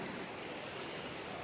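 A river rushes steadily in an outdoor spot, its continuous broadband wash fairly quiet and unbroken, with no voices over it.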